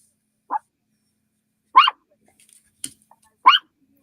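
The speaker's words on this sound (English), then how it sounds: "Oh, he's howling at the moon." Dog giving a few short, separate yelping barks and whines with silent gaps between them, close and clear in an otherwise quiet room.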